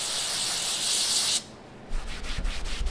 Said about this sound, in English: we got some non-chlorinated brake cleaner